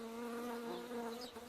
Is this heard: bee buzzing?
yes